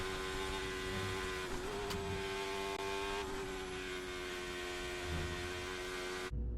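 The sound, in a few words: Formula 1 car racing through corners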